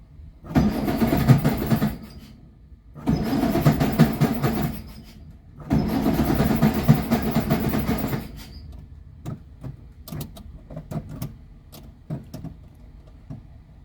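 A 1954 Ford Popular 103E cranks in three long bursts of starter-and-engine churning, separated by short pauses, then falls to scattered faint clicks and knocks without settling into a steady idle.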